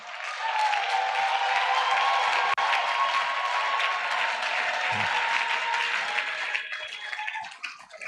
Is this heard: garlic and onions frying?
no